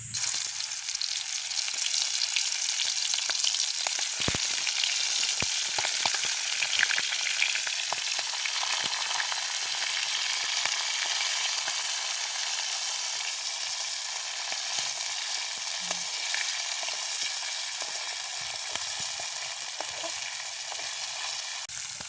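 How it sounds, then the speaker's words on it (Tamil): Squid coated in gram flour fries in hot oil, a steady bright sizzle that runs unbroken for the whole stretch, with occasional soft stirring clicks and no talking. "நாங்கள் இனி இப்படியே பொரிப்போம்"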